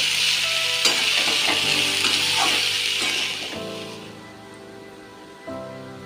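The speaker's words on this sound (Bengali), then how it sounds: "সব সবজি দিয়ে একটু নেড়ে নেবো, নিয়ে ঢাকা দিয়ে দেবো।" Vegetables sizzle and fry in a pan with little oil, stirred with a few clinks of the utensil, for a home-style tangra fish curry with winter vegetables; the sizzle fades as a lid goes on.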